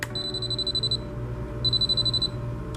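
An inspection robot sounds its camera-tilt warning: two long bursts of rapid high-pitched electronic beeping, separated by a short pause, over a low mechanical hum from the machine.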